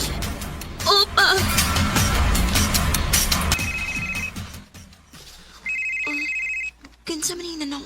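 A telephone rings in short electronic bursts, two clear ring tones in the second half separated by a pause, following a stretch of voices and noisy movement.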